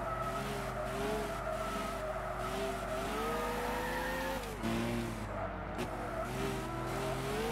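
A Lamborghini Aventador in a Gran Turismo 6 race whines through rising and falling engine revs, with tires squealing and skidding through corners, loud and continuous.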